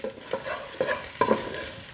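Melted lard sizzles steadily in a pan, with several sharp stirring scrapes spaced through the steady frying hiss, close and fairly loud, no voices.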